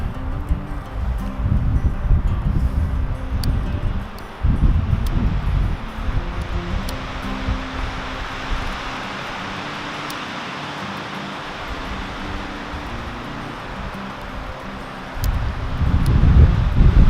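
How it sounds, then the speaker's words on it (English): Gusty wind buffets the microphone outdoors in bursts, with low rumbling surges separated by calmer stretches of steady rushing. "It's windy out."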